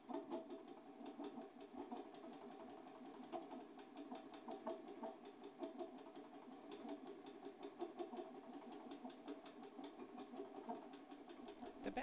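A homemade electric spinning wheel runs steadily while spinning raw wool into yarn, a faint, continuous motorised whir with a fine rapid rattle throughout, no voices.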